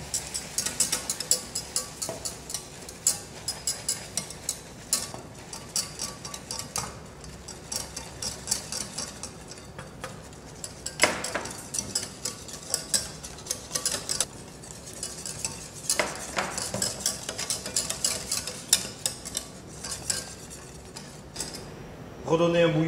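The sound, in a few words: pouring boiling cream into caramel to thin it, stirring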